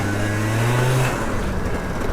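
Modded two-stroke scooter engine revving hard on a mountain road, a loud, close, rising buzzing wail that peaks and then drops off.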